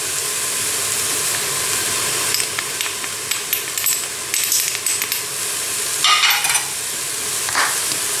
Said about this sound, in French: je fais colorer ma viande dans ce mélange jusqu'à ce qu'elle soit bien dorée